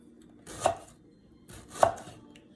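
A knife cuts an onion on a cutting board in two separate strokes, each a soft slice ending in a sharp thud, close and quiet, with no talking.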